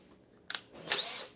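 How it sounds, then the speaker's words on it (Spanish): An electric drill in a workshop making thin-heeled dress shoes gives two short, loud whirring bursts close by, with a brief pause between them. "Por acá tengo el taladro."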